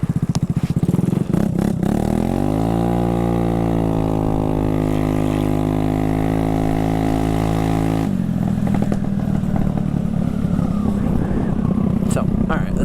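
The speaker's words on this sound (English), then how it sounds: "obviously it's super awesome exhaust note" A scooter engine revs up with a rising, buzzing exhaust note, holds steady, then drops back to a rough, rattling idle up close, with wind noise.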